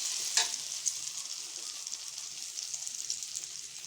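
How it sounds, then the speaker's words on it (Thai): Eggs frying in hot oil for a Thai omelette, a steady bright crackling sizzle throughout with a sharper pop near the start, close and alone with no talk. "ทอดทอดทอดทอด ทอดไข่ง่ายง่ายง่าย"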